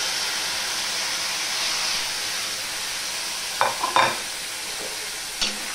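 Ridge gourd and egg stirred together in a frying pan, a continuous even sizzle broken late by a few short scraping clinks of the spatula against the pan.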